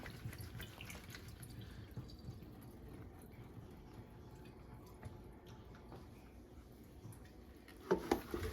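Quiet trickling and dripping of water as cucumbers for bread and butter pickles are rinsed and drained in a kitchen sink, low and steady, with a couple of brighter splashes near the end.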